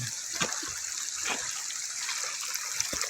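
Rainwater runoff rushing across a plowed farm field after heavy rain, a continuous close gushing flow with a few brief splashes and no talk.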